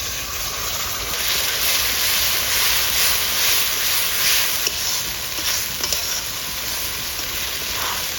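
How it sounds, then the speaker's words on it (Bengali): Onions fried until reddish brown in a pan with green chilli, cumin, coriander and garlic paste being stirred in, a loud, steady hissing sizzle with scraping stirs close by, no talk. "পেঁয়াজটা লাল লাল করে ভাজা হয়ে গেছে"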